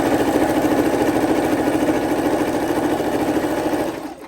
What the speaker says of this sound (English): you're going to see how nice the machine is going to be stitching